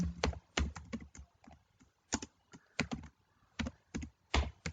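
Someone types C++ code on a computer keyboard at close range. Key clicks arrive in short, irregular bursts with brief pauses between them, and no one speaks.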